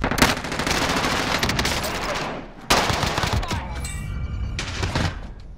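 Rapid, sustained automatic gunfire from a Call of Duty Warzone quads match, loud and close, with bursts running almost nonstop, one brief pause, then more firing and a faint high mechanical whine near the end.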